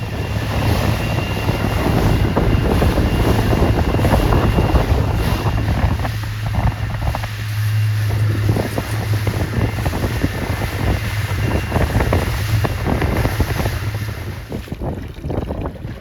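Strong wind at a sailing regatta roars and buffets a nearby microphone in a constant loud rush, with faint water and boat sounds beneath and no voices.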